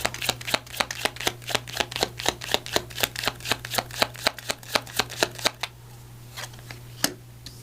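A Language of Flowers affirmation card deck is riffled, producing a quick, rhythmic train of crisp card slaps that runs for several seconds, stops, then ends with one final snap.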